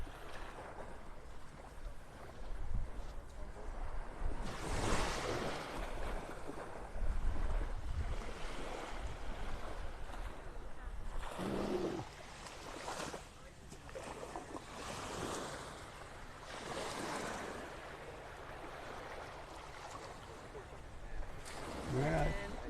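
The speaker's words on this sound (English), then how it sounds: "now I'm seeing some little small tiny waves breaking over top of the sandbars" Small waves breaking over shallow sandbars on a North Naples, Florida beach, a steady wash of surf with bursts of breaking water and wind gusting across the microphone, while a person talks over it.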